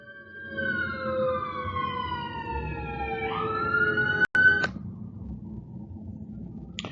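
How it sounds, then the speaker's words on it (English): Emergency sirens wail and sweep in pitch on a city street, close and loud, over steady traffic rumble, ending with a couple of sharp electronic chirps. "Sorry for the sirens in the background."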